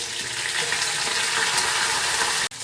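Curry leaves crackle and sizzle steadily in hot oil while tempering a Kerala erissery, a dense, close frying hiss that holds evenly and then breaks off abruptly near the end.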